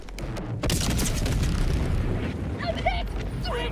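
A hell bomb in the video game Helldivers 2 detonates with a massive, deep boom, then rolls into a long, loud rumbling roar, with faint voices briefly heard toward the end.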